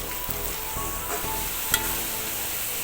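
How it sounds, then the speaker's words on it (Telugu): Onions and spices sauté in a pan as the base for a Telugu-style korramenu (murrel) fish curry, a steady close sizzle with a few faint clicks of a spoon against the pan, no talking. "ఇవన్నీ ఇలా మగ్గుతుంది."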